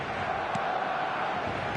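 Football stadium crowd in a soccer video game, a steady dense roar of massed fans filling the whole stretch with a faint background voice.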